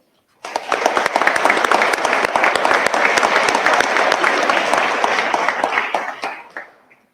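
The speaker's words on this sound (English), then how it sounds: "join me in a round of applause" An audience breaks into a round of applause at a Hutchinson power plant announcement event, dense clapping starting abruptly, holding loud and steady for several seconds, then thinning out and fading at the end.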